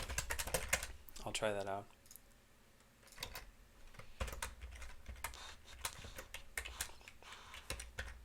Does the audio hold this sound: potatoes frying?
no